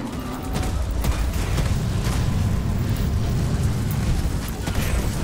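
An explosive blast tearing into a Breeder in Deep Rock Galactic, heard as a continuous heavy rumble with scattered pops and crackles that holds steady and loud throughout.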